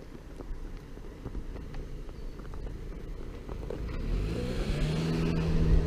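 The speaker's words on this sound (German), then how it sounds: "ein Auto kommt." A car drives toward a rider on horseback along a village road, its engine and tyre noise rising steadily from faint to loud as it nears and passes close by.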